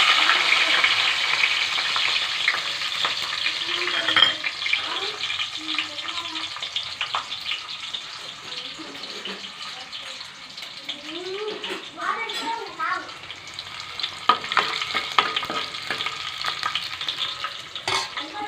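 Dried red chili and crushed garlic fry in hot oil, giving a steady sizzle with bursts of crackle and occasional stirring scrapes, while a voice talks at times.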